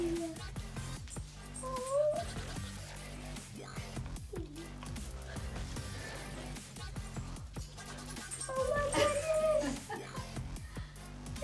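A newly arrived puppy, a young male dog, whimpers and yips in a series of high, wavering cries over a busy background of voices and music.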